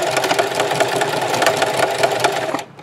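Sewing machine back stitching on a fabric scrub cap, a steady close mechanical whir running continuously for nearly three seconds, then stopping abruptly near the end.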